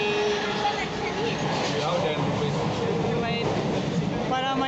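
An electric commuter train rumbles along from inside the carriage, with a steady rolling drone and faint rhythmic track clatter underneath.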